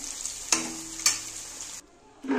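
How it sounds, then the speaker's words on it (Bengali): Loud sizzling of paneer frying in a pan, with a couple of sharp clanks of a utensil stirring, the sizzle briefly dropping away before resuming. "দেখো পনিরগুলো ভাজা হয়ে গেছে, এবার আমি তুলে নেব"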